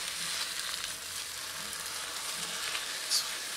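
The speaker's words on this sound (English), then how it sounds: "Give this a stir." Onion, celery and sliced carrots sauté in a pot for Tuscan bean soup, a soft even sizzle running throughout with a faint clink near the end, no talking.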